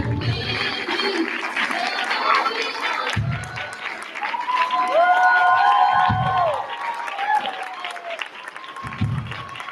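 A school assembly audience at a charter school claps and cheers for a student's performance, steady applause with crowd voices running through, with a brief pause and a voice breaking in partway.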